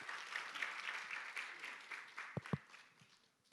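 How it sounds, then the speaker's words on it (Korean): Audience applause at a university festival presentation session, a steady patter of clapping from a crowd that fades toward the end, with a couple of louder thumps near the close. "여러분들 다시 한번 12번째 CES 팀에게 박수 부탁드리겠습니다."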